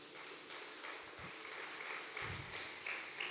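A church congregation applauds during a sermon, a faint, distant wash of clapping heard in a reverberant hall, low in level and continuous, with a few muffled thumps underneath.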